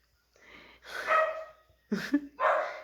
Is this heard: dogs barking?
yes